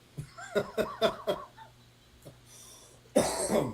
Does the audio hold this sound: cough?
yes